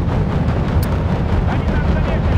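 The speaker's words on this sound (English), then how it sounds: "the last rocket it fires basically hits the last rocket that the Apache fires" Rocket explosions in the Wargame: European Escalation video game, a loud continuous roar of blasts and rumble filling the moment, with a voice talking over it.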